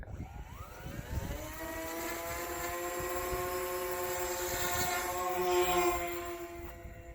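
Model VTOL aircraft's electric motors whine up to high throttle, steady harmonic tones rising then holding loud and close for several seconds, with a brief swell near the end.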